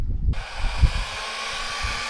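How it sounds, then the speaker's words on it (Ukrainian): A steady, close whoosh of a hair dryer running continuously, heating a motorcycle wheel bearing seat, with a few low knocks and thumps from handling beneath the airflow. "І нагріваємо посадочне місце феном."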